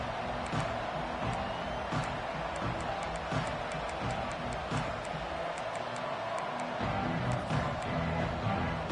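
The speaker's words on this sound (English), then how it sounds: "This crowd bringing the energy and noise early" Stadium crowd noise at an SMU vs Auburn football game forms a dense, steady roar of distant voices and cheering, with scattered sharp claps and ticks on top and no clear talk.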